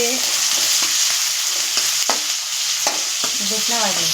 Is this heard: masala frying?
yes